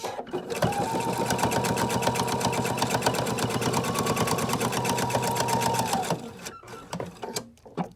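A sewing machine runs a fast, even stitching rhythm for about six seconds to finish the last fixed stitch on a placemat organizer, then stops, leaving a few faint clicks and handling sounds.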